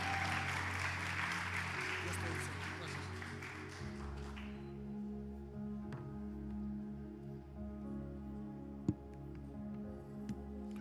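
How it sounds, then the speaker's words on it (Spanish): A church congregation applauds at a Sunday service, a dense wash of clapping for about four seconds that stops abruptly, leaving a quiet room with low hum. "Denle un aplauso fuerte."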